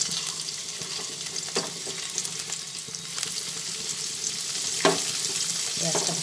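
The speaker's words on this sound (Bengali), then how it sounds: "পেঁয়াজটা ভাজা হচ্ছে" Chopped onions frying in oil in a wok, a steady soft sizzle with occasional stirring clinks and scrapes, faint water running in the background and no talk.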